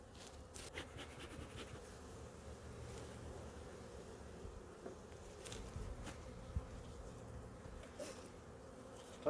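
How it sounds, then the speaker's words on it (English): A faint, steady drone of honeybees buzzing at an opened hive super throughout, with occasional brief passes louder than the rest against soft wind noise. "we got some bees emerging out of there"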